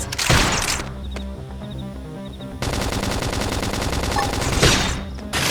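Rapid bursts of gunfire in Xenoblade Chronicles X Definitive Edition, loud machine-gun rattling with heavy impacts, broken by a short pause before a sustained stream of fire resumes.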